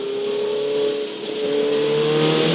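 A Ferrari 488 Challenge Evo race car accelerates on a track, its engine a loud, close, sustained tone that rises steadily in pitch, with a brief dip in the middle before pulling hard again.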